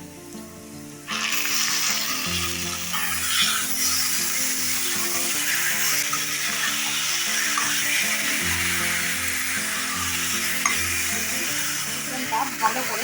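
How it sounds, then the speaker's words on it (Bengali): Marinated chicken dropped onto browned onions in a hot pan bursts into a loud, steady sizzle that holds on without a break, with a low tonal hum running underneath. "পেঁয়াজটাতে লাল করে ভেজে নিয়েছি ম্যারিনেট করে রাখা চিকেনটা এবার এর মধ্যে দিয়ে দিচ্ছি"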